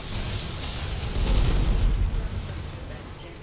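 Rocket explosions in a Destiny Clash match, a sustained, rumbling low boom that swells and fades over a few seconds under dense game noise.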